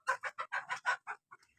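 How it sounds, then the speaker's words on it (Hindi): A few hens on a farm cluck in a quick run of close, distinct bursts, about nine short calls in rapid succession with no talking. "मुर्गी। ये रही।"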